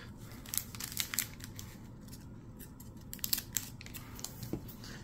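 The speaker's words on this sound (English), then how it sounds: "Alright, I came back with scissors." Scissors snipping open a Brothers' War collector's booster pack: a few quick crisp cuts and crinkly foil rustles up close, coming in short clustered bursts with pauses between them.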